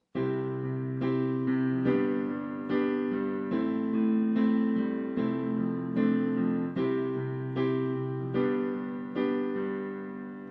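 The intro and verse chord progression of a song played steadily on a harmonic instrument, each chord ringing into the next in an even repeating pattern, with no talking.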